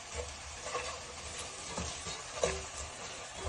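Spices with salt, turmeric, cumin and coriander powder stirred in a frying pan for a red lentil curry with jute leaves, a quiet sizzle under repeated scraping strokes, close and fairly soft, no voices.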